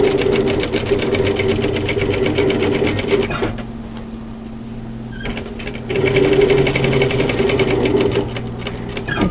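A sewing machine back tacks a seam in silky, slinky soft woven fabric for a V-neck camisole, with a steady close-up whir that runs, stops for a few seconds, then starts up again.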